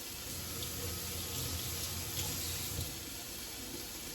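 Water runs steadily from a kitchen tap as the inside of a whole chicken is rinsed, a continuous close rushing hiss with no talk.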